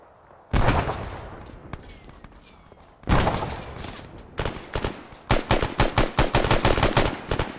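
In the Arma 3 video game, loud gunfire comes in sudden bursts, including a sharp heavy blast and a rapid run of close, rhythmic shots near the end.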